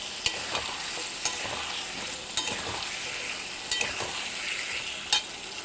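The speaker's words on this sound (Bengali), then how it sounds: "এবার আমি এই মশলার সঙ্গে ভালো করে গাঁটি কচুগুলো একটু কষিয়ে নেব।" Taro chunks stir-fried with spices in a pan for a tilapia curry, a continuous sizzle broken by regular sharp scrapes of a spatula about once a second.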